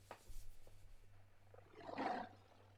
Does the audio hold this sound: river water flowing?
no